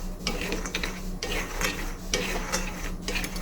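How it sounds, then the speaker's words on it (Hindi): Peanuts roast in a small kadhai while being stirred, giving repeated dry scraping and rattling strokes in a steady rhythm over a constant low hum, close and moderately loud. "अब हम इसमें मूंगफली के दाने को डालेंगे और भूनकर रेडी करेंगे"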